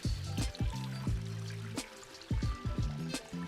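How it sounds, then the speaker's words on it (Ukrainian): Cold Carpathian spring water pours into a bottle at close range, steady gurgling streams broken by a brief lull and then renewed splashing bursts, with no talking. "зупинився набрати води"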